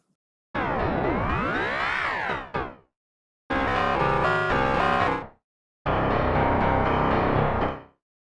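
Ring modulator presets in Cubase produce three separate processed bursts of bell-like, metallic, inharmonic tones. The first has sweeping, swooping partials and the next two are denser and clangy, each about two seconds long, loud and alone with short gaps between them.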